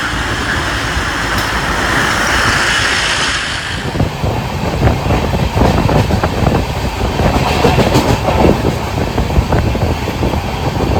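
A train rumbles and clatters nearby at Ratnagiri railway station, loud and continuous, growing rougher after a few seconds with rhythmic rattling of the carriages.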